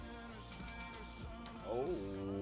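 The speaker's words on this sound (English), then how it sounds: "Ringing the bell." A bell is rung in a radio studio during a live show, with bright metallic strikes ringing out clearly while people talk over and around it.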